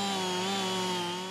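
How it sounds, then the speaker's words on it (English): A chainsaw runs at a steady high-revving whine, loud and close, with a strong droning buzz and no speech, while logs are cut for building a log cabin. "Time to fire up the chainsaw."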